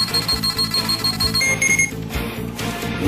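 A Dragon Ball scouter toy beeping after its button is pressed: steady, loud electronic alarm-like tones repeating over a busy musical background.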